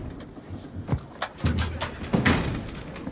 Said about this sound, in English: Opening forward door.